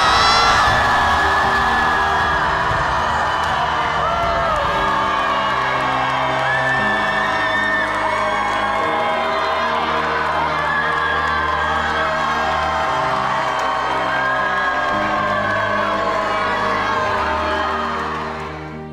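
A church congregation shouts and cheers loudly for a long stretch, a dense roar of whoops and yells over sustained music that fades slightly at the end.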